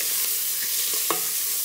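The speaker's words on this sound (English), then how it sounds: "What you're listening for is that sort of frying noise that you associate." Chopped chicken wings fry in a pan with shallots, mushrooms and thyme. A soft, continuous sizzle carries a couple of brief stirring scrapes and small pops, close by and with no talking.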